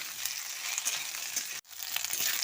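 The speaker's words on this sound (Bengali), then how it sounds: "আদাটা দিয়ে শিম ও আলুর সঙ্গে খানিক্ষণ ভেজে নিচ্ছি" Green beans and potatoes fry with grated ginger in a pan, giving a steady, fairly quiet sizzle that drops out briefly for a moment before resuming, with no voices.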